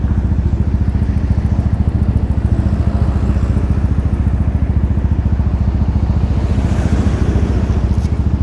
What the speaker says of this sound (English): Evan says the exhaust is so loud you can hardly hear.